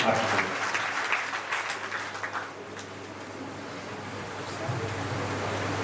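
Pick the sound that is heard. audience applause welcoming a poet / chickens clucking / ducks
audience applause welcoming a poet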